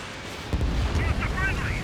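A rumbling burst of missile fire and explosion from the combat flight game Ace Combat 7, loud and broadband, continuing as a steady roar under clipped radio voices.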